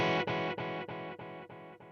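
A sustained tone passed through the Replicant delay plugin in analog mode repeats as a chain of echoes roughly every third of a second, each one softer and duller than the last, with no voices.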